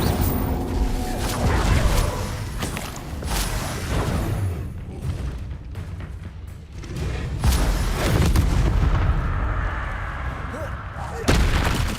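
Repeated fire spells cast in Hogwarts Legacy, a dense run of roaring bursts and heavy booming impacts that surge and fade with other spell effects throughout a loud, busy fight.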